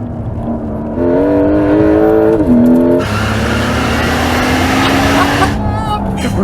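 Loud close engine note climbing in pitch as a 2026 Porsche 911 Turbo S accelerates hard, with a gear change and continued rising roar.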